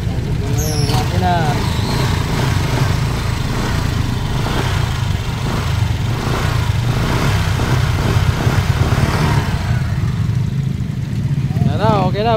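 A Honda Click scooter engine runs at a steady idle with a low, continuous throb, while people talk over it in a workshop setting.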